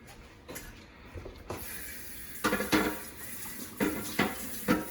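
Rice being stirred in a cooking pot of Jollof rice with sauce still wet, giving a series of scraping, clinking utensil strokes against the pot, moderately close, with a soft hiss behind and no talking.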